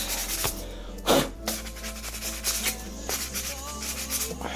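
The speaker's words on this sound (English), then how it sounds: "I'm just going to kind of go over all the areas that I sanded, make sure that they are nice and smooth." A wooden guitar headstock is hand sanded with 320 grit wet/dry sandpaper, making continuous close rubbing strokes with a louder rasping pass near the start, no talking.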